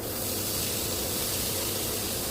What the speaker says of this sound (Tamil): இந்த பச்சை மிளகாவை இப்போ வதக்க ஆரம்பிச்சிடலாம். நெக்ஸ்ட்டு ஆனியன் போட்டுடலாம்